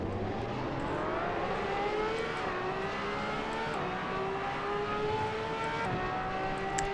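At the race start at Spa Francorchamps in the Assetto Corsa game, a Ferrari LaFerrari engine revs hard and climbs in pitch through the gears. It is loud and sustained, with no talk.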